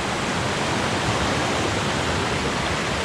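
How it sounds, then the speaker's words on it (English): A jungle waterfall at Pozo Azul near Minca roars as a steady, loud, broadband rush of falling water, unbroken and with no voices. "it's a waterfall, so you can't get lost"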